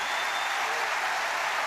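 A large crowd greeting the Pope roars and claps in a dense, steady wash of applause and cheering, loud and unbroken throughout.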